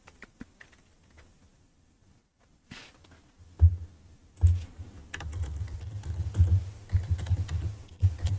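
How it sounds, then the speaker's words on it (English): Computer keyboard typing during a gaming stream, soft irregular key clicks starting faint and sparse, then a steadier run of quiet keystrokes over a low hum. "right now I'm just typing what I've discussed in the chat, just for reference later"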